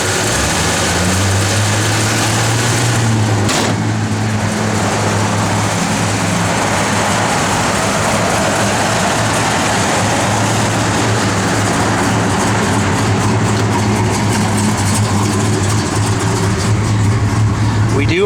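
A 1968 Plymouth Road Runner V8 with a mild performance cam runs steadily at idle, a loud low rumble holding the whole time with little change in pitch, and speech-like sounds mixed in over the engine.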